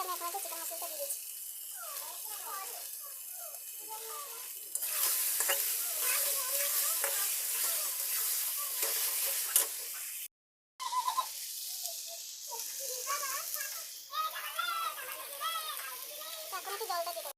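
Egg and potato curry frying with chicken masala, a steady sizzle with intermittent stirring scrapes close by, while someone talks over it, with a brief dropout partway through.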